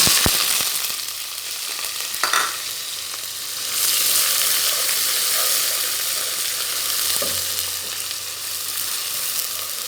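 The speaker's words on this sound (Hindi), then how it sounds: "अब हमने ये इसमें कटी हुई प्याज डालकर इसको फ्राई कर लेना है।" Chopped onions fry in hot oil for a Pakistani-style chandi korma, a continuous close sizzle that swells after the onions go in, with occasional stirring clatter.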